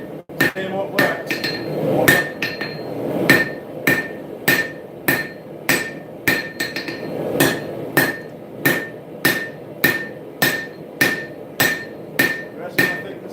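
Steady, ringing hammer blows on hot steel as a smith forges the distal taper into a dagger blade, struck in regular rhythm roughly once a second, loud and close with no voice.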